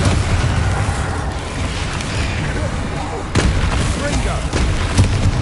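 The Bombarda blasting spell explodes in a Harry Potter video game as a continuous loud, rumbling barrage with a sharp crack partway through, dense and close.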